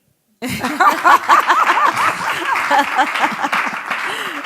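A church congregation bursts into applause, loud and sustained clapping starting abruptly, with voices cheering and some laughter mixed in.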